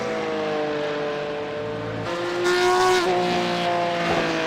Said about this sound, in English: Have to have a listen to this car as it comes down in front of us.